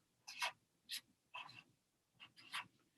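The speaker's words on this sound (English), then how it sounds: "So I'm going to write" A pen or pencil scratches across paper while a letter is written by hand: soft, close strokes in short bursts separated by brief pauses, quiet against a near-silent room.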